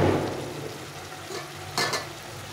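Chicken sautés with bay leaves in a pan and is stirred, giving a low steady sizzle with brief scraping and clinking of the utensil against the pan near the end.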